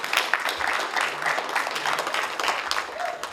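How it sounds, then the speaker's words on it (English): Audience clapping at a memorial anniversary gathering in Adelaide, a steady patter of many hands filling the room, moderately loud and continuous, with a voice briefly speaking over it. "give a clap to them"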